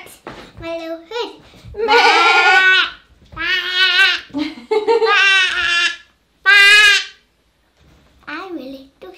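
A child imitates sheep bleating, producing several long wavering bleat-like cries between short bits of spoken words and playful sounds, loud and close.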